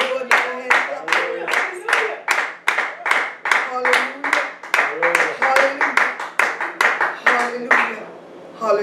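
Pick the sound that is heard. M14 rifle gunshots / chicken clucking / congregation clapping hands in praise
congregation clapping hands in praise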